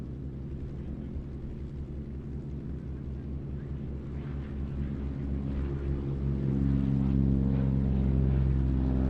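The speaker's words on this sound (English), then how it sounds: "just about to roll on the hard runway is the first display act of this afternoon, just about to get airborne" A Goodyear FG1D Corsair propeller fighter runs up for takeoff on a hard runway at an airfield flying day, its piston engine droning loudly and steadily and swelling in power toward the end, with a commentator talking over it.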